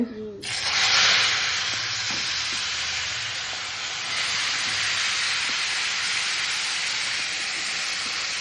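Vegetables dropped into hot mustard oil tempered with mustard seeds and dried red chilli burst into a loud, sudden sizzle that settles into a steady, dense hiss for several seconds.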